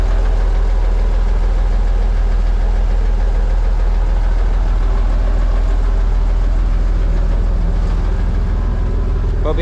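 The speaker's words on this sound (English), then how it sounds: "Smoky diesel cold start." Cold-started Volvo F7 diesel truck engine idling roughly and steadily with a smoky, knocking chug, loud and close throughout with no talking.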